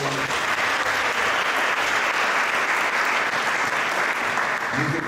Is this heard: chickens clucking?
no